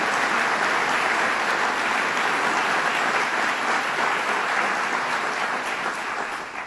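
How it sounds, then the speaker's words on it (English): Sustained applause from a business event audience in New York fills the room, steady and dense throughout before tapering slightly at the end. "Let's give them a round of applause"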